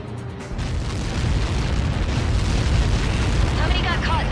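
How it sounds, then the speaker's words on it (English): Missile strike explosion in Ace Combat 7: a deep rumbling boom that swells and rolls on for several seconds, with voices talking over it. "How many got caught in that explosion?"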